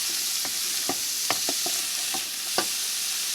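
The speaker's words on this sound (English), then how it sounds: "Give that a stir. We're going to sweat these down." Onions sweating in avocado oil in a pan, a continuous bright hiss of frying close up, broken by several quick scrapes and taps of a spoon as they are stirred.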